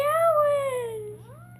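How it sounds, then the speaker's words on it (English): A black kitten gives a long, drawn-out meow that slides downward, then a shorter rising mew, close to the listener and loud against a quiet indoor background. "Quit meowing."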